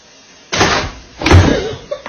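A door swinging open in a home where a cat and dog are kept, with two solid bumps and rattles about a second apart, fairly close and loud, with no one talking.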